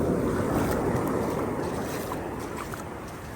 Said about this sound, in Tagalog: Medyo malaki lang po ang alon.